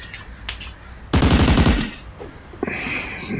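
Rapid automatic burst from a homing dart gun in the game Compound, a loud stuttering volley of about a second, with a few sharper single shots and mechanical clicks before and after.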